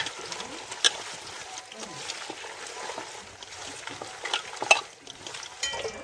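Wet stirring and scraping in a pan as rooster chicken is mixed with spices, with soft squelching and occasional sharp clinks of a utensil against metal, close by and moderately quiet.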